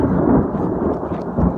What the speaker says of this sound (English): thundering out towards Yanks Peak a fair bit.